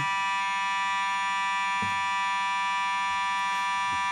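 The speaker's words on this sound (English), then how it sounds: "Unfortunately, we're experiencing an alarm here and a fire alarm here at our GPP studios, to be exact." Fire alarm in a broadcast studio blaring a continuous, steady electronic tone with no breaks, loud and unchanging throughout, with faint knocks beneath it and no voices.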